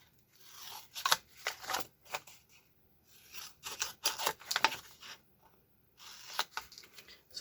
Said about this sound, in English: So now I'm just going to cut these out so that they are ready to go.